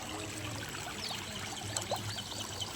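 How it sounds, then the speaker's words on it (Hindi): Water pouring and trickling into a street drain, a steady gurgling stream with small splashes and bubbling over a low background rumble. "नाले में पानी जा रहा देखो"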